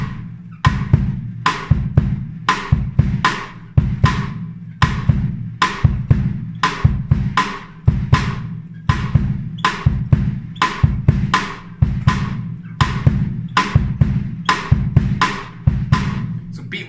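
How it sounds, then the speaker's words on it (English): Steady bossa nova groove on a drum kit with bass drum thumps and sharp cross-stick clicks on the rim, repeating in an even syncopated pattern, loud and close with no talking. "So just the bass drum and the cross stick sounds like this."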